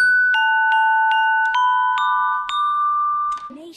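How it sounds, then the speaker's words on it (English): Glockenspiel playing a short commercial jingle, about seven bright struck metallic notes in a quick, evenly paced melody with ringing sustain, clear and alone before a brief trailing sound. "Glockenspiel."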